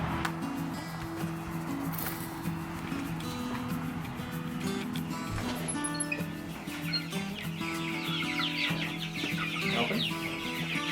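Three-week-old meat chickens cluck and peep steadily in a group, with soft chirps and scattered rustling throughout, heard at close range.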